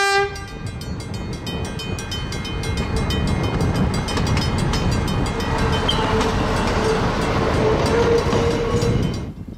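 Railcar RM51 passes on the heritage railway at Ferrymead, returning to Moorhouse from the dock siding. A steady rumble builds as it nears, with a sustained horn tone at the start and a loud, continuous rolling roar of wheels that stays close throughout.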